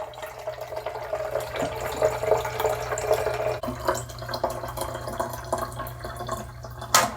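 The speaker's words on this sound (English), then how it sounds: "I'm going to put some filtered water right in there." Filtered water poured into the small reservoir of a kitchen steamer, a steady close trickle and splash with a few drips, alone without talk.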